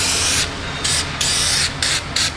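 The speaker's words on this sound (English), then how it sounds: "So we'll put a little fluid film on there." Aerosol can of Fluid Film rust inhibitor spraying onto parking brake parts of a Chevy Traverse; four or five short, close hissing bursts in quick succession with brief gaps between.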